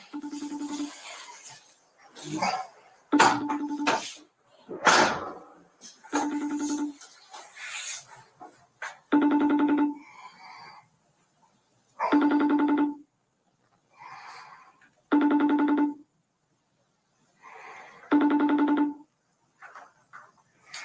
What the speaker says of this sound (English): So I'm gonna dial his number up.